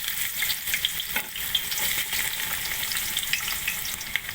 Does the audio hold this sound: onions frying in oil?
yes